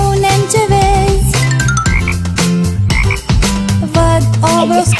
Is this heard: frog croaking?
yes